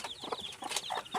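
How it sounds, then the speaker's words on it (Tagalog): Newly hatched chicks peep in a rapid, high, overlapping chorus close by, with soft hen clucks mixed in, from a brood of about twenty hatched by two mother hens on a small poultry farm. "Ang dami ng sisiw."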